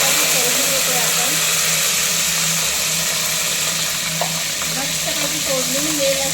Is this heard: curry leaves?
yes